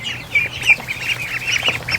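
Many ducks quack and chatter continuously inside a duck barn. The sound is close and busy, overlapping calls with no talking.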